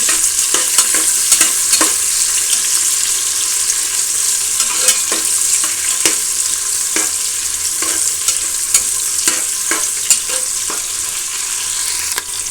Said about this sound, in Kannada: ಈರುಳ್ಳಿ ಚೆನ್ನಾಗಿ ಕೆಂಪಾಗಿ ಫ್ರೈ ಮಾಡ್ಕೊಳ್ಳಬೇಕು